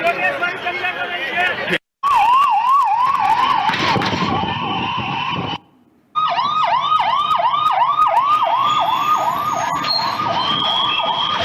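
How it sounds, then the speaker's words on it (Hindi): Fire brigade and ambulance sirens at the Ahmedabad plane crash site, loud wailing and yelping cycles overlapping from several emergency vehicles, briefly cut off twice, with a faint voice underneath. "आप देख रहे हैं फायर ब्रिगेड की जो गाड़ियां हैं वो रेस्क्यू ऑपरेशन के लिए वहां पर पहुंची।"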